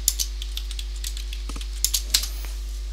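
Keys clatter lightly on a computer keyboard as a web search is typed, a few soft, scattered taps over a low steady electrical hum, close and faint, with no talk.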